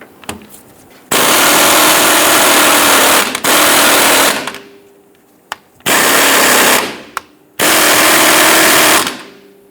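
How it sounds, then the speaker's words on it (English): An impact wrench with an 18mm deep socket loosens and removes sway bar end link nuts on a rear Jeep Grand Cherokee suspension, firing in four loud sustained bursts separated by short pauses and clicks. "Using an 18mm deep socket, we're going to loosen and remove these two nuts."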